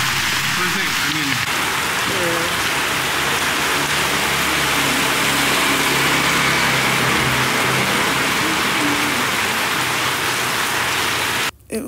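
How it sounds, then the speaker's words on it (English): Heavy rain pours steadily during a typhoon in Hanoi, a dense continuous hiss close by that cuts off abruptly at the very end, with faint voices briefly under it early on. "The rain had just started"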